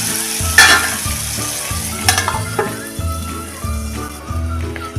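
Tomatoes and toor dal cooking with spices in a covered pan give off a steady close sizzle and frying crackle, with a few soft clinks and stirring sounds throughout.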